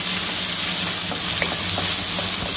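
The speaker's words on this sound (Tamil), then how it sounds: "வெங்காயம் எல்லாம் போட்டு நல்லா வந்து ஃப்ரை" Onions fry in oil with a close, dense, steady sizzle and crackle that continues unbroken throughout, with no voices.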